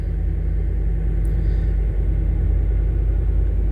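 A 1988 Chevy OBS pickup idles just after a cold start, a loud, steady low rumble that stays even throughout with no speech over it.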